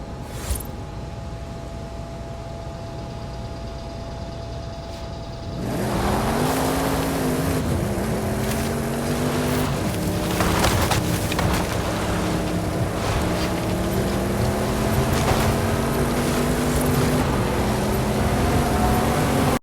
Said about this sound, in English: Tried to block this AMG one, but they managed to get around me, and the Camaro goes flying by